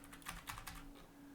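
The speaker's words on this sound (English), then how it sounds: "I'm typing." Fast typing on a computer keyboard, a quick run of light key clicks at close range with nothing else over it.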